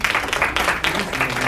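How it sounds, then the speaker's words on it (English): Audience applause at an African entrepreneurship event, a brief burst of dense clapping from a crowd, close and continuous. "Round of applause, keep it coming,"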